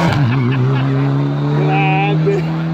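A Mitsubishi Lancer rally car at a rally stage between Chiuro and Teglio drives past, its engine loud and close with a rising, shifting tone, while people talk nearby.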